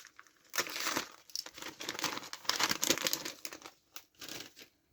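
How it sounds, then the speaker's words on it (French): Plastic packaging being torn open and crinkled to unwrap Millennium Falcon model kit pieces, close and fairly quiet, in irregular bursts of rustling and crackling. "On va déballer ça."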